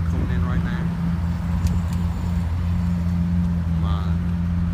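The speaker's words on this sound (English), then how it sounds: "Got a Lamborghini Aventador SV coming in right now." A Lamborghini Aventador SV sports car pulling in, heard as a steady low engine drone with a constant rumbling hum and no clear rise or fall over a few seconds.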